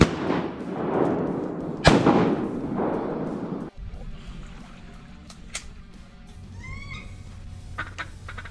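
Shotgun blasts at an Arkansas duck hunt: three loud, close booms ring out one after another in the first few seconds. Quieter outdoor ambience follows, with faint bird calls in the distance.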